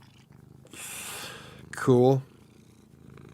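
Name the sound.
cat purring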